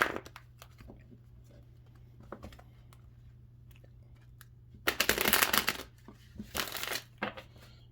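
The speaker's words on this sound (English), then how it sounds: "let's get one more shuffle." Tarot cards being shuffled in two brisk riffling bursts near the end, with scattered light taps and clicks before, close by and with no talking.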